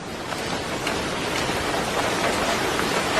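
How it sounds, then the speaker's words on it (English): Light rain falls steadily on a city street, a continuous close hiss with no breaks. "it's not raining heavily, and yet the sewer system is unable to cope with even light rain"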